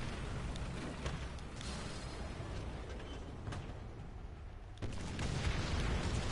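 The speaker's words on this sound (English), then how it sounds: "Ooh, I hear a lot of gunfire going on." Gunfire and bomb blasts in the War Thunder video game, a dense, continuous rumble of booms and bursts at steady loudness with a heavier impact near the end, no talk.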